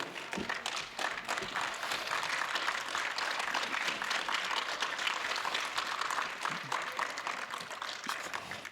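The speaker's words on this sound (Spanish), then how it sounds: "yo pido un aplauso." Audience applause at a lecture on Haiti and the Dominican Republic, many hands clapping in a fairly quiet but sustained patter that continues evenly for several seconds without speech.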